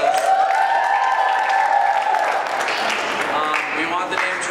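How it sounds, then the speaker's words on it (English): A campus audience at a William & Mary event claps together in a dense, sustained round of applause, loud and close, while a voice speaks over the start. "So give yourselves another round of applause."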